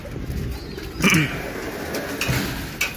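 Pigeons in a loft coo softly in low, throaty bursts, a few calls spaced apart over a busy background of rustling and fluttering.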